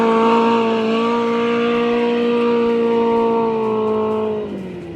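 Off-road race cars at the start of the NORRA 500 rally roar past in a loud, sustained engine drone with steady high revs that dip slightly toward the end, close and continuous.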